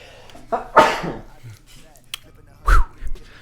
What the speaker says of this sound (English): Oh, got a sneeze.